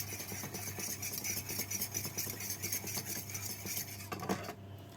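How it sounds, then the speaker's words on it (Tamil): Two eggs being beaten in a bowl for an instant bread recipe, giving a steady, fast scraping and clinking of a utensil against the bowl, close and continuous over a low background hum. "இப்போ நான் இதில் 2 முட்டை எடுத்து வச்சிருக்கிறேன். இதை வடிவாக அப்படி கலக்கி விட போகிறேன்."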